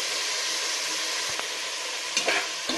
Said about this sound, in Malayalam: എല്ലാ വെജിറ്റബിൾസും ഇട്ട് ഒരു 2 മിനിറ്റ് നന്നായിട്ട് വഴറ്റണം.